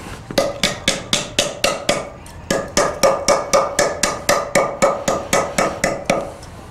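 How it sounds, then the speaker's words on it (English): A forged metal leaf struck with a hammer against a scooped wooden stump, a steady run of about twenty close, loud, ringing blows at an even rhythm with no talking. "I'm going to hammer this down"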